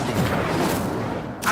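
Incendio fire spell cast in Hogwarts Legacy, a loud continuous roaring whoosh of flame that fills the moment and ends with a brief flare, with no speech over it.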